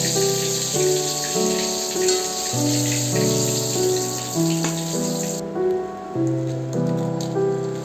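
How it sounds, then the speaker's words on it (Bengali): Dried red chillies, bay leaves and whole cumin hit hot oil left over from frying fish, giving a steady hissing sizzle that runs beneath melodic background music. "ওই তেলের মধ্যেই দিয়ে দিচ্ছি শুকনো লঙ্কা তেজপাতা গোটা জিরে"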